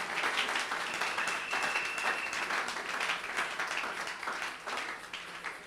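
A church congregation applauds during a Sunday service, steady dense clapping that carries on for several seconds with a few voices mixed in.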